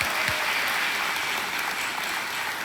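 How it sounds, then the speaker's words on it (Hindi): A studio audience on a television quiz show applauds to welcome a contestant, an even wash of clapping held steady and fairly loud with no speech over it. "तालियों के साथ आपका स्वागत करते हैं"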